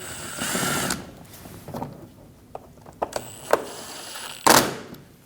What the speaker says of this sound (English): Install the screws up through the bumper.